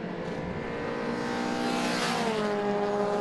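Mini Cooper race cars at the Knock Hill circuit, including the white 89 car running side by side with another, roar past with a loud, sustained engine note whose pitch shifts as they pass. No voices are heard.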